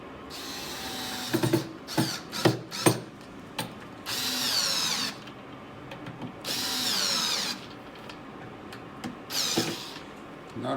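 Power drill driving three small screws into a Vent-Tech SWG-B control float, a string of short whirring bursts separated by pauses, then a few longer sustained runs, loud and close with no talking.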